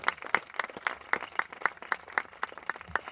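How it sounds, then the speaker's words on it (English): Scattered clapping with a steady, sparse rhythm, like a small audience at a political rally applauding for a few seconds, moderately close. "Let's give that a round of applause."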